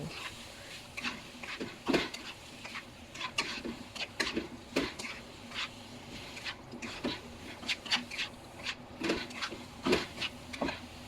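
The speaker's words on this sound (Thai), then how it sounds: "ต่อมาเติมน้ำมันหอยเล็กน้อยค่ะ แล้วก็ผัด ให้ทุกอย่างเข้ากัน" Asparagus and clams stir-fried with oyster sauce in a pan, with a spatula scraping and clicking in irregular bursts over a steady low background hiss, no talking.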